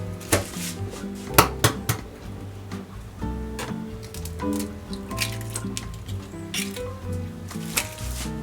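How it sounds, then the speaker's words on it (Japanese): Cooking clatter: a few sharp cracks and taps as eggs are cracked into a blender jar, then a soft wet squish, with light clinks of utensils over quiet background music. "卵も割ってミキサーに入れます。"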